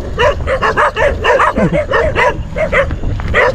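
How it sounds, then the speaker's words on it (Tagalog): Several dogs bark repeatedly in quick, overlapping bursts, loud and close, forming an agitated chorus of barks and yips. "Nagulat ako sa mga aso."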